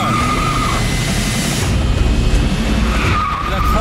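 A jet-powered rocket car speeds past with a loud continuous roar and tire skidding, a squealing tone rising at the start and again near the end, with no talk over it.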